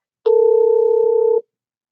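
A telephone dial tone sounds as a single steady electronic hum lasting just over a second, clear and loud, then stops abruptly into silence.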